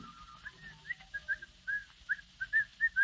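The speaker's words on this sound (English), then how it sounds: "Down the stairs comes the happily demented Mr. Van Dyke, whistling cheerfully." A man whistles a cheerful, bouncy tune in an old radio drama, a string of short, bright notes in a lively rhythm, clear and fairly close against a quiet background.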